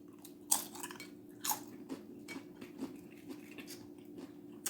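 Close, quiet chewing of taco salad with thin crunchy chips, soft irregular crunches and wet bites repeating at a steady pace, with no talking.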